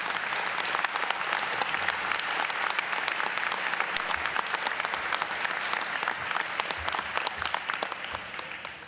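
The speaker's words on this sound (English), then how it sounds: "if you'd give everybody a round of applause to help make this program happen" Sustained applause fills a banquet hall, a dense, steady wash of many hands clapping at even loudness for the whole stretch, with no voices standing out.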